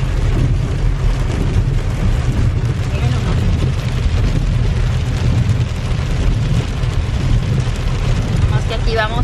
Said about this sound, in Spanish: Cayendo el granizo.